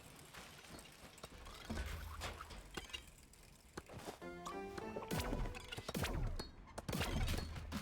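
Artillery units firing in the video game Kingdom Eighties, a busy, fairly quiet mix of repeated thuds, cracks and clattering impacts under a steady game backdrop, with no talk.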